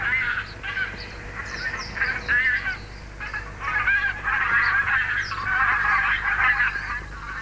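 A flock of geese honks on land in a busy, overlapping chorus, many calls near and far piling up continuously with some quacking-like notes mixed in.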